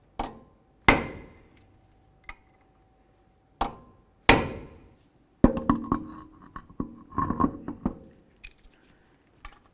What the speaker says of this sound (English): take a hammer and punch, come right in the center of that, and just kind of peen it in a little bit to lock the nut in place